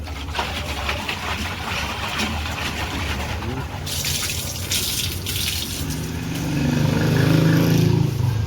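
Tap water gushing into a new plastic jug for mineral drinking water, a steady rushing stream that grows fuller and louder toward the end, with voices and a passing engine hum in the background.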